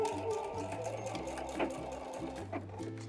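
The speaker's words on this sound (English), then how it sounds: "we're just gonna sew up a little quarter inch seam with a straight stitch" Sewing machine running a straight-stitch quarter-inch seam on waistband elastic for DIY underwear, a steady close mechanical whir in several bursts with short pauses between them, no talking.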